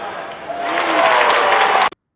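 A basketball arena crowd roars during a Duke game at Wake Forest, the cheering swelling loudly for under two seconds before cutting off abruptly.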